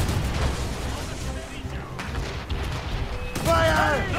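Ship cannons firing in an Assassin's Creed Rogue naval battle aboard the Morrigan, heavy booming blasts and rumbling volleys amid battle noise, loud, with a voice shouting near the end.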